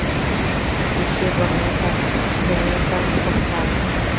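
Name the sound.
Thoseghar waterfall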